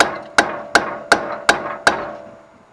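Chisels hammered in to separate a ball joint on a C10 truck's front suspension: six sharp, evenly spaced metallic strikes, each with a short ringing decay, loud and close with no voices.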